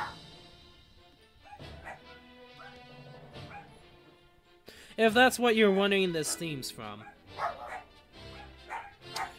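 A dog in the background barks and whimpers in a run of yips under someone talking over game music.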